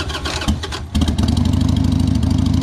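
A 2002 Harley-Davidson Sportster motorcycle engine, just after a carburetor cleaning, cranks briefly and then catches into a loud, close, rapid-firing idle with a steady throbbing rhythm.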